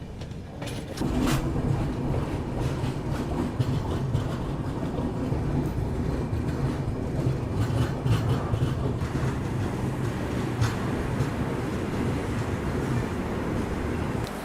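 A train rolls steadily into Mariani junction past tea gardens, a continuous loud rumble of rail wagons with faint clickety-clack and wind buffeting throughout.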